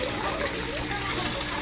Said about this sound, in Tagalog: Aquaspeed submersible pump